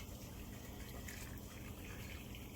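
Hot water poured into a pot for water bath canning apples, a steady continuous gush and splash of liquid filling the pot, close and unbroken for a couple of seconds.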